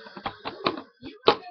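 Soft percussive taps and slaps on a cup and tabletop in the cup song, a short uneven rhythm of a few hits, quiet and close.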